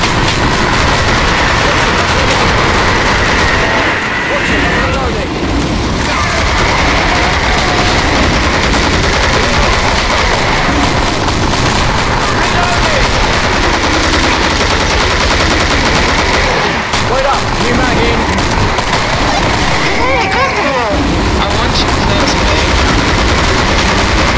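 Continuous rapid gunfire from the co-op shooter Killing Floor on Hard difficulty, dense overlapping automatic bursts sustained loudly throughout with brief dips between volleys.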